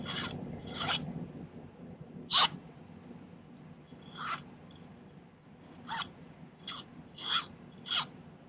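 Close-up rasping strokes of a hand file rounding the cut ends of silver wire at a silversmithing bench, about ten short bursts in an uneven rhythm, each stroke distinct against a quiet low background hum.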